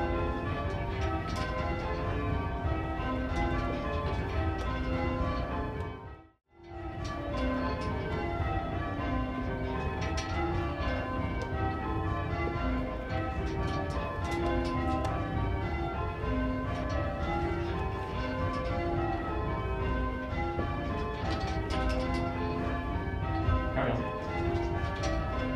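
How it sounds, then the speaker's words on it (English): Church tower bells ring in a steady, overlapping peal, loud and resonant, with a brief dropout early on before the ringing continues unbroken. "So that is bell ringing."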